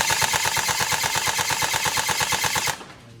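Tokyo Marui MK46 airsoft electric gun firing a long rapid full-auto burst of even, fast clacking shots, close and crisp, stopping abruptly before a brief quiet tail.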